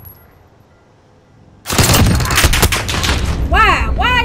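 Gunfire in a battle royale shooter game, a sudden loud burst of rapid automatic shots after a quiet moment, followed by a couple of sweeping tonal sounds.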